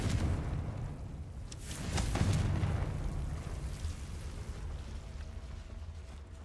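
In Hogwarts Legacy, a Confringo blasting spell goes off as a muffled, rumbling boom with some crackling debris and a low roar that slowly fades, heard without any talk over it.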